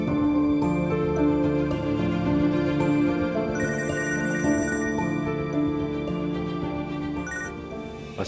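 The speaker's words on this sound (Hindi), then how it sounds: "उमर को कॉल करती हूँ मैं।" A telephone rings on an outgoing call as a melodic ringtone, a sustained tonal pattern repeating throughout, loud and close, with no speech over it.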